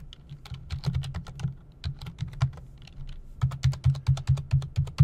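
Keys on a computer keyboard are typed in quick, uneven bursts of close, crisp clicks, with a short pause partway through.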